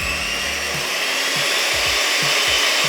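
Egg whites whisked toward stiff peaks for meringue-like pancake batter give a steady, loud whirring churn that runs unbroken, with faint low knocks recurring underneath.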